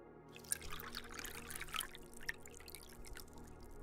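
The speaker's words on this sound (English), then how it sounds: "Not a lot of water coming out of that." A thin stream of water trickles from a tap into a glass, faint and close, with soft irregular splashes and drips that rise and fall for a few seconds.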